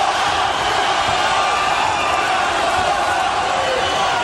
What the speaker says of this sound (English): Hear the crowd chanting for Zaragoza